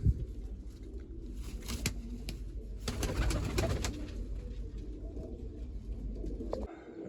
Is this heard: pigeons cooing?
yes